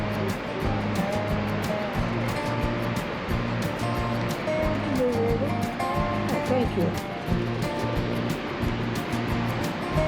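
The river and waterfall at Fall Creek Falls roar continuously in a loud, broad wash of rushing water while people talk nearby.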